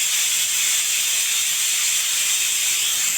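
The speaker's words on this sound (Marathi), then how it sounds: "मी कुकरच्या 2 शिट्ट्या करून घेतलेल्या आहेत." Steam hisses sharply out of a pressure cooker whistle while chicken cooks, a bright, continuous, close release that holds steady for the full few seconds with no talking.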